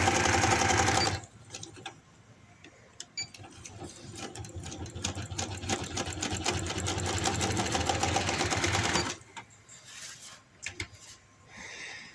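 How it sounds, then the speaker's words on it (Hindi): A sewing machine stitches a fabric seam to the end on an umbrella palazzo garment. It runs as a steady, close, rapid mechanical patter for about eight seconds, then stops and quieter handling sounds follow. "इसको भी एंड तक सिलाई लगा देते हैं"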